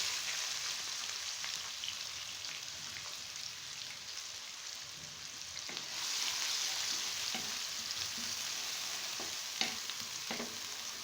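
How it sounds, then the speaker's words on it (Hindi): Onions and whole cumin seeds frying in a pan for a Kashmiri dum aloo curry, giving a steady, close sizzle with light crackles and occasional stirring scrapes, with no talking. "दो से 3 मिनट के लिए प्याज डाल के भूनेंगे।"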